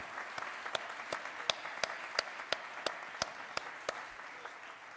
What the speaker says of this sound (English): I ask you to give a very warm applause to all of them